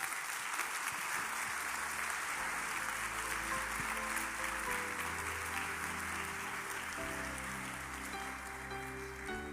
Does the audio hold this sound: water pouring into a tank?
no